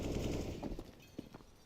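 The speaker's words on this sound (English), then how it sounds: "Cadian has that AK and puts it to good use." AK rifle gunfire in the Counter-Strike video game rattles out as a quick burst of shots, fairly faint and fading into scattered lighter cracks.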